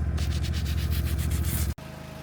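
Dirt being dug out of the ground for split rail fence posts: a steady, close grinding and scraping with a rhythmic low rumble, cutting off abruptly near the end.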